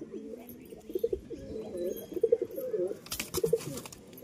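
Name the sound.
pigeon cooing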